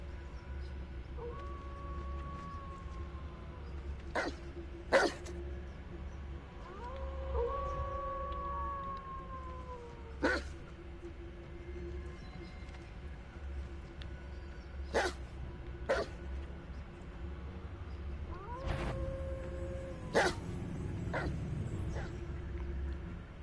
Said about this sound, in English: they're not dogs, they're wolves.